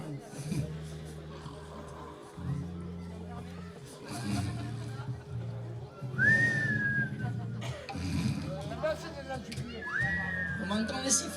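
Several sharp rising whistles from a live concert crowd ring out over a busy room of people talking and murmuring, with a steady low hum underneath.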